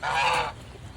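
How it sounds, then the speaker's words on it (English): A goose on a farm gives a single loud, nasal honk up close, followed by quiet farmyard background. "the geese. They're always yakking."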